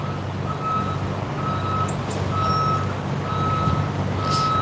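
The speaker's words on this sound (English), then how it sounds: "the trucks you can see behind me here, right, and the one you can hear reversing, they're refrigerated trucks" A refrigerated truck backs up outside a slaughterhouse, its reversing alarm sounding a steady series of evenly spaced beeps over a continuous, loud diesel engine drone.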